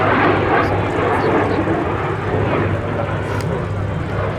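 A MiG-17 fighter jet flying a display at the Duxford summer air show gives a loud, continuous roaring jet rush across the whole few seconds, with no clear gaps.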